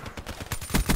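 Rapid automatic gunfire from the video game Black Ops 3, a fast burst of repeated shots rising in loudness toward the end, without talk.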